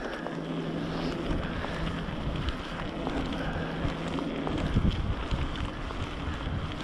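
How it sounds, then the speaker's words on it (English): Steady wind rushing across the microphone during a bicycle ride, a constant loud broadband roar with gusts that swell near the end. "it's kind of windy."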